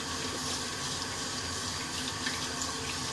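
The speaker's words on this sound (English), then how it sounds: "Rinsing out my brush, hold on." Running tap water splashes steadily as a shaving brush is rinsed under it, a close, continuous hissing rush with no voices.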